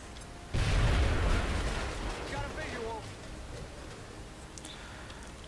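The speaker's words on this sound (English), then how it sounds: "now I can throw a grenade" A grenade explodes in the video game XCOM Enemy Within, one heavy booming blast that hits suddenly and fades slowly, with faint game sounds after it.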